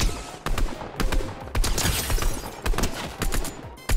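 Rapid automatic gunfire in the video game Fortnite, loud bursts of shots fired in quick succession with short gaps between volleys, close and sustained.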